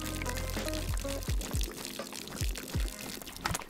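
Water glugging from a bottle as a character drinks in the video game DayZ, a series of quick liquid gulps and pours in an uneven rhythm, close and moderately loud, with no talking.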